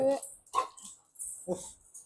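A dog gives a few sharp, close barks and yips in quick succession, separated by brief silences, with short whimper-like sounds mixed in.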